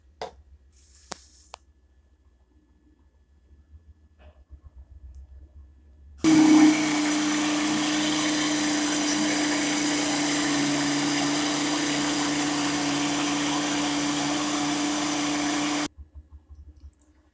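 After a few quiet seconds with faint clicks, a kitchen blender bursts on, whirring loud and steady for about ten seconds while it blends cassava (aipim) with water. It then cuts off abruptly.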